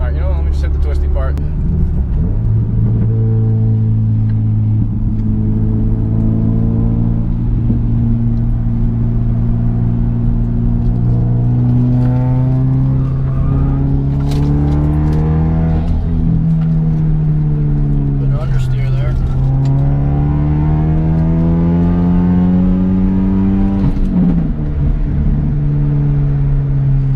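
Subaru Legacy 2.5GT engine pulling hard along a twisty road, a steady loud drone whose pitch climbs and dips repeatedly through gear changes and bends, heard from inside the car.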